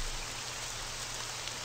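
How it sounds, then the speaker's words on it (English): Steady rain in an RPG Maker horror video game, a soft, even wash of falling drops with a faint low rumble beneath, continuous and without any voices. "It's raining."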